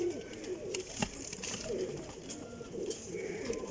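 Parwazi flying pigeons, part of a flock of eighteen, coo in soft repeated throaty phrases close by, layered over a constant busy background of rustling and bird noise with no talk.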